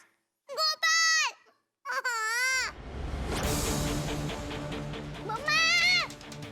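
A young girl's crying wails in a Hindi TV drama household scene, two short sobbing bursts, then a noisy stretch and another loud wail near the end, close and clear.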